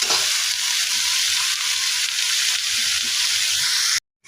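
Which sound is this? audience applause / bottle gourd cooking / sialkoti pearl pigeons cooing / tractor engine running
bottle gourd cooking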